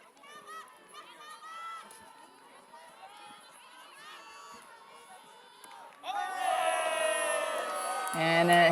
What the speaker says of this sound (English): a hand block is rewarded with some cheering from the sideline